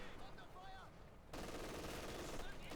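MG40 machine gun fire in Company of Heroes 2, a dense continuous burst of rapid shots that starts abruptly partway through and carries steadily to the end, loud in the game mix with effects and commentary in the background.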